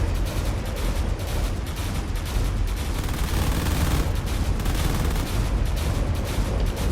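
Turrets and a ship trading fire in the Drone Wars game: a relentless, loud barrage of overlapping gunshots and booming impacts, steady throughout with no pauses.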